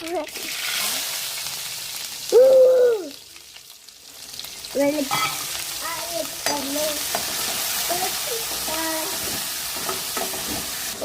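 Mustard seeds sizzle and crackle in hot oil while being stirred, a steady broadband frying hiss running throughout, with a brief louder tonal burst and scattered clinks from the pan.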